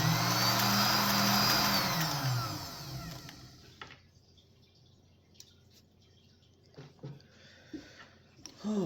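A sewing machine runs a straight stitch along elastic on a bonnet, a loud steady whirring burst for about three seconds that stops, followed by quiet with a few small clicks and handling noises.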